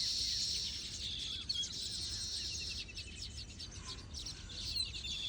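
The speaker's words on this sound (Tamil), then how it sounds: "தூக்குனாங்குருவி" Baya weaver birds call with high, rapid chirps and twittering in an open crop field, a steady chorus running throughout over a low outdoor rumble, with no talking.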